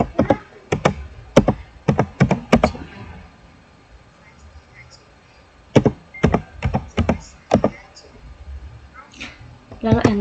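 Bursts of loud, close keystrokes on a computer keyboard, clustered typing runs separated by a pause, while a person talks quietly in the background.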